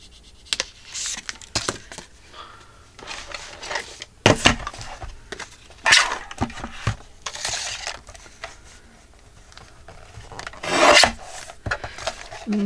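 Scissors trim paper for a folio envelope ephemera holder, making a series of close raspy snips and rustles. The cuts come in irregular bursts separated by short pauses, with no talking.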